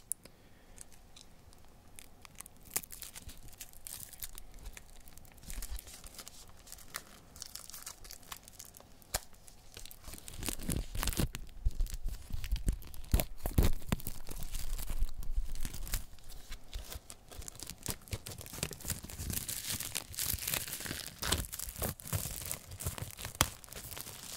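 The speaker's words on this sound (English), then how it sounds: "I didn't unwrap any of these, so we'll get to get some nice wrapper sounds." Plastic shrink wrap is torn and peeled off vinyl records up close, a long run of crinkling, crackling and tearing that grows louder and busier midway, with sharp snaps among the rustle and no talking.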